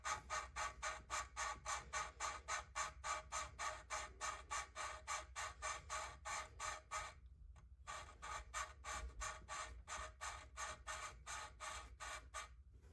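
Valves being lapped in an Audi A4 engine head, a fast, rhythmic, high-pitched scraping and squeaking repeated back and forth, with one brief pause partway through.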